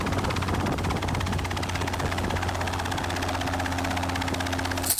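Safari 500 ultralight helicopter with a Lycoming 360 engine running, a steady loud engine drone with rhythmic rotor chop throughout, no talk.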